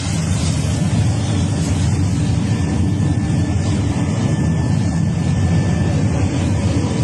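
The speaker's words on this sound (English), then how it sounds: "A private jet on Second Niger Bridge." Private jet passing over the Second Niger Bridge, a loud, steady engine roar with broad rumbling noise that holds constant from start to finish, with no talk.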